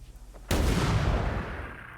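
Bombing explosions in the video game Rimworld: a sudden loud blast bursts in after a quiet half-second, then rumbles and crackles as it slowly fades over the next second and a half.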